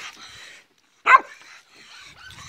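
A single sharp dog bark stands out between softer whiny, whimpering tones, fairly close and loud, on a farm in Lithuania.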